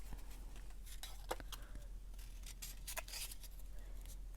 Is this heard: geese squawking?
no